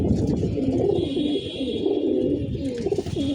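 Pet pigeons cooing in a cage, several close, low throaty coos overlapping steadily over a short stretch.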